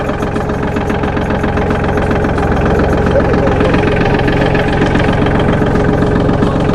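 A Solis 26+ mini tractor engine runs steadily nearby in first gear with a loud, rhythmic knocking chug and constant vibration, unchanging throughout.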